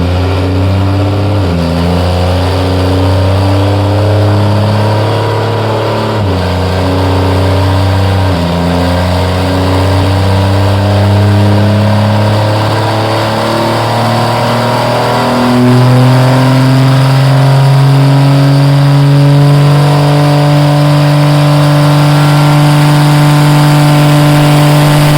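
A 4WD Cummins diesel truck runs hard on a dyno with its rear tires spinning and smoking on the rollers. The engine holds a loud, steady, sustained roar that climbs in pitch and intensity toward the end, with no talking.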